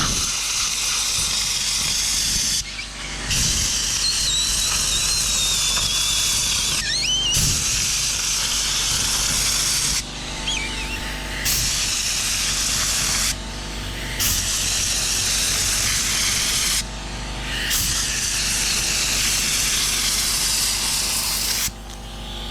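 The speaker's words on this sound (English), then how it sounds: "But I kind of want to spray all that crap out of there too." Strong hissing spray jets blast dirt out of a bicycle in long continuous bursts, with short pauses between them, loud and close.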